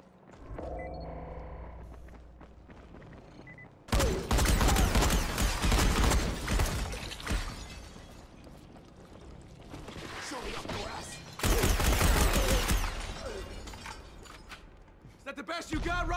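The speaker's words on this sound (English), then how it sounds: "Guns, I'm guessing." Gunfire in the video game Dying Light: bursts of loud, dense shooting and crashing impacts in two long stretches, with shouting voices in the fight.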